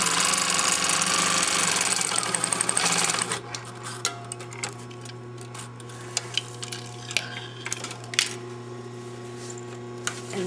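A sewing machine back tacks along a seam while a gusset is being sewn, a steady loud motor buzz for about three seconds, then stopping and giving way to scattered light clicks and handling sounds over a low hum.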